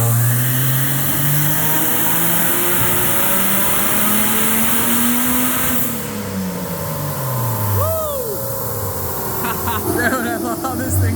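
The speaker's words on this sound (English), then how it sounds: "We have the waste gauges dumped, and the turbo noise is that. It's silly on a Jeep." A turbocharged Jeep Wrangler off-road with its wastegates dumped revs loudly and up close, engine pitch rising and falling, with whooshing turbo flutter and whistles as someone talks over it.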